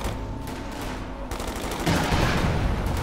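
A P47 aircraft strafing a Jagdpanzer in Company of Heroes 2, with dense bursts of rapid gunfire swelling louder in the second half, sustained and close.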